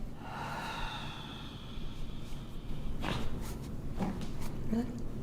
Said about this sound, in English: And breathe out all the way.